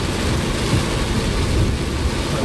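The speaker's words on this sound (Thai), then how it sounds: "ฝนตกแรงมากนะครับ" Heavy rain batters a car driving through a storm, a loud, dense roar with low rumbling and no break over the short stretch.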